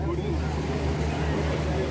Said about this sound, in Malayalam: അടുത്തൊരു ബോട്ട് വന്നിട്ടുണ്ട് ഫ്രണ്ട്സ്